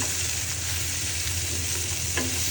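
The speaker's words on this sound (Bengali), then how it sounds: "মশলাটা দিয়ে দিলাম মশলাটা কষাই" Spices frying for an eel fish curry, a dense continuous close sizzle in hot oil with a brief metallic stir scrape near the end, no talking.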